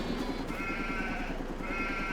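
Sheep bleating in the farming game Farming Simulator 22, a steady run of faint, nasal calls under a continuous background hum, with no talk over them.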